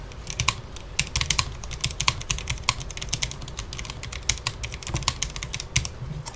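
Rapid, steady typing on a Cherry MX 10.0N RGB mechanical keyboard with low-profile Speed switches, a dense run of light, fairly quiet clicks and key taps heard up close with no talking.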